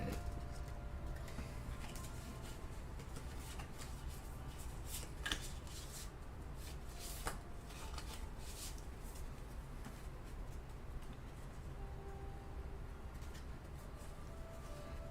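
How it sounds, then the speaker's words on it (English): Tarot cards from a major arcana deck being shuffled by hand, a steady soft riffling and sliding of card stock with a few sharper slaps, close and continuous throughout without talk. "Let us shuffle the major arcana."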